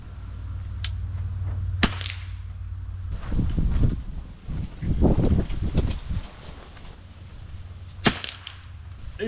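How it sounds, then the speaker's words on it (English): Strong gusty wind buffets an outdoor shooting range, a steady low roar with swelling gusts, broken by a few sharp cracks from ammunition testing at 50 yards. "We got some serious wind going on here."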